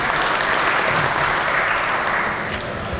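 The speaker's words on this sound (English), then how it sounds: "please give her a round of applause" Loud, dense applause fills the West Virginia legislative chamber, many hands clapping steadily for three seconds and easing slightly at the end.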